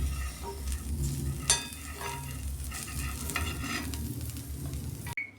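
Chicken kebabs coated in yogurt marinade fry in a pan with a dense, close sizzle, while a spatula keeps stirring and scraping against the metal throughout before the sound cuts off abruptly.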